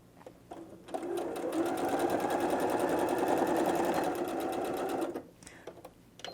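A sewing machine runs a steady, fast stitching burst of about four seconds through canvas for a tote bag, backstitching, with soft handling noises before and after.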